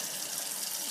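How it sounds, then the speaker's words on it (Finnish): Tap water runs in a steady, close rushing stream as it fills the water tank of a Paulig Cupsolo capsule coffee machine. "otetaan sitä täältä hanasta, semmoinen sopivanlainen annos"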